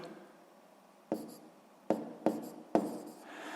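A pen writing out a sixth-grade math exercise by hand on paper, quiet scratching strokes with four distinct sharper taps as digits are marked, close and soft with no talk.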